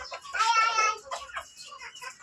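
Chickens on a rooftop farm cluck in a quick run of short, nasal, up-and-down calls close by, with a louder burst early on and softer clucks trailing after.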